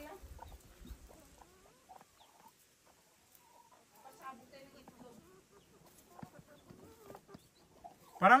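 Soft, scattered clucking from a chicken, low and close, with faint voices and shuffling noises around it.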